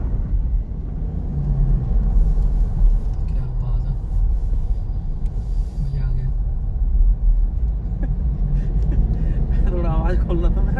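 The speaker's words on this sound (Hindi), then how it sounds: "अभी हम लोग गाड़ी की ट्राई ले रहे हैं।" Toyota Fortuner on a test drive after a transmission filter and oil change and replacement of all engine mountings, giving a steady low engine and road rumble from inside the cabin throughout.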